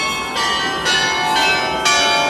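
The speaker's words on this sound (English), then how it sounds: "we're in time for the Leicester Square bells" Church bells ring out in Leicester Square, London, in a loud, continuous peal. Fresh strikes land roughly every half second over a sustained, shimmering wash of overlapping tones.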